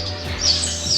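Pet finches chirp in a small indoor bird room, a few short, bright, high calls against a soft background hum.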